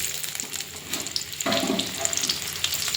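Chopped onion hitting hot oil in a wok for a fish and radish-prawn curry, a soft sizzle that swells suddenly halfway through into a louder, continuous fry.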